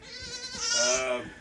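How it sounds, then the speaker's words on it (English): A baby goat lets out a single wavering, high-pitched bleat that rises and falls over about a second, close and clear. "Look how cute these goats are."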